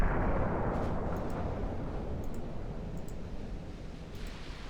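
A warship blows up from a flash fire during a naval battle in the game Ultimate Admiral Dreadnoughts, a deep rumbling roar that slowly fades, with a few faint distant pops and crackles.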